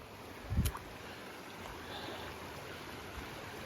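A stream flows beside a mountain trail on Athabasca Pass as a faint, steady wash of running water, broken early by a brief low thump close by.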